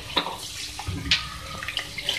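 A small splash of water poured into a pan of spices for aloo hara baingan, a few short close splashes and trickles heard alone.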